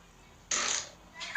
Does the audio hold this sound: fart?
yes